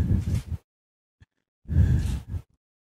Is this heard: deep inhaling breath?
yes